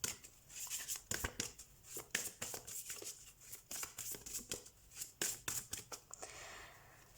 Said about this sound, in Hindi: तो हम कार्ड शफल कर लेते हैं पाइसेस।